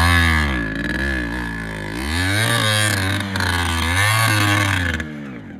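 A TVS Ronin motorcycle riding offroad near a flowing stream in a village runs loudly up close, its engine note rising and falling through two clear revs over a steady, throbbing idle.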